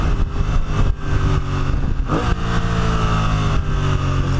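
A BMW F900XR motorcycle engine pulls hard through the gears with a quick shifter on the upshifts, loud and close, revving rising and dropping with brief breaks between gears.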